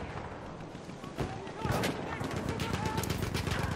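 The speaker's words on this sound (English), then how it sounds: "Machine gun." Rapid machine gun fire in a Battlefield 1 battle on the Achi Baba map, a continuous loud rattle that swells partway through, amid other battlefield noise.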